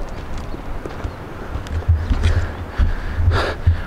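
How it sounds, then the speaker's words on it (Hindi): Horse hooves clip-clop along a mountain trail in uneven, close steps, mixed with snorts and breathing from the animal, with trail ambience and no talking. "नहीं वो घोड़े वाला पीछे आ रहा है।"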